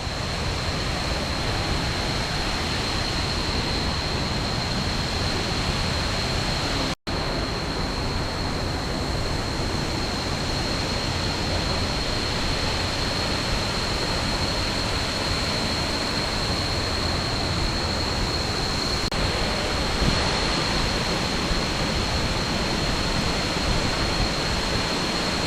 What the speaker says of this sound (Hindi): बस दिखाता हूँ आपको वाटरफॉल अब।